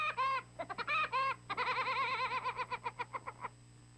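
Woody Woodpecker's classic 1940 cartoon laugh-call from Walter Lantz's screwball bird, a bright warbling series of chattering bursts, a few quick phrases then a longer rapid trill, loud and close with no other sounds.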